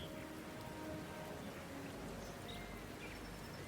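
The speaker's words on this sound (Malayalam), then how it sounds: "ആ മഴയത്ത് പാവം ഭോലി ആകാശം നോക്കി വിറച്ചിരുന്നു." Rain falls steadily in an animated fairy tale, a soft, even hiss that continues throughout with no talking.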